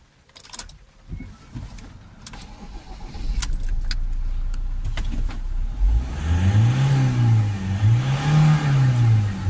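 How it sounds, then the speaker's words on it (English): Clicks and clatter give way to a Ford Transit Custom 2.2 diesel van engine starting, then revving repeatedly during DPF cleaning, the pitch rising and falling in slow swells, loud and close. "we should be able to get full revs now"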